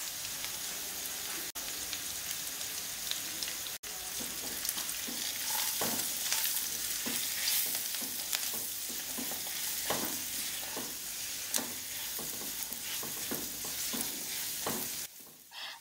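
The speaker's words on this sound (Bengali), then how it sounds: "সবকিছু কিছুক্ষণ ভেজে দিয়ে দেবো কাজু বাদাম, জিরে গুঁড়ো, ধনে গুঁড়ো, কাশ্মীরি লাল লঙ্কা গুঁড়ো আর নুন।" Cashews with ground cumin, coriander, Kashmiri chilli powder and salt fry in a pan for butter chicken. A constant close sizzle is broken by repeated scraping stirs at a loose, steady rhythm.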